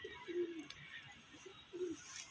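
Pigeons coo softly nearby, two distinct low, rounded coos spaced about a second and a half apart over quiet background.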